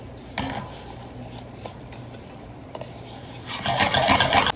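White rice toasts in butter in a pan, with a spoon scraping and stirring the grains over a gentle sizzle. The stirring grows louder and busier toward the end.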